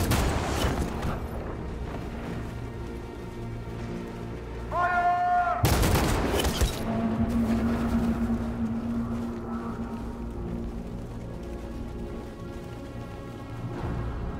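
Gunfire erupts in Detroit: Become Human: one sharp, loud burst of shots about six seconds in, set against a low hum of ambience, with quieter background sounds around it.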